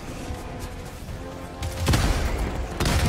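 Automated turret firing in the Helldivers 2 video game, a distant, faint rattle of gunfire that swells into louder, rapid bursts toward the end, with no voices over it.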